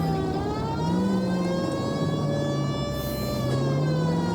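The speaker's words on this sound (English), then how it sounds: "I turned my siren on." A police car siren wails in the L.A. Noire video game, a single sustained tone rising and falling slowly over a steady engine drone, loud and up close with no talking.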